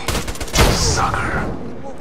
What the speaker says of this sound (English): This weapon is awesome. Just listen to the sound when you hear it firing.